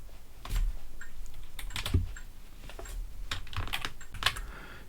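Keys clatter on a computer keyboard as a command is typed into a Linux system, a run of quick irregular taps with brief pauses, close and fairly quiet with no voices.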